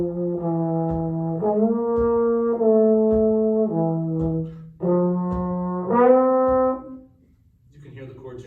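Solo horn improvising melodic lines over changing jazz chords in a basic improvisation workshop, sustained notes shifting pitch in phrases, loud and close with no talking.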